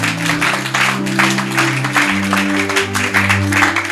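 Church congregation clapping steadily together under sustained organ or keyboard chords, a dense, lively patter of many hands filling the room at moderate loudness.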